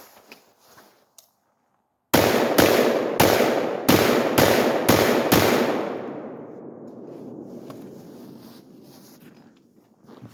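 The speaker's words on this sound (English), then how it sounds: "We're shooting at that rim over there, the one rim that we have left." Big bore guns fired in a rapid string of about six loud, sharp blasts at a rim target outdoors, each crack close and booming, followed by a long fading echo rolling across open ground.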